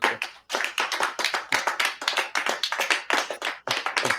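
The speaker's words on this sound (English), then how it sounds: "give me a small group of people clapping" A small group of people clapping, AI-generated, gives a dense, steady patter of claps that starts, breaks briefly, then resumes and continues with no talk.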